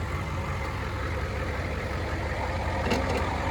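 A Farmall 140 tractor engine with a badly leaking carburetor cranks and churns steadily, a loud continuous low mechanical drone close by with no voices.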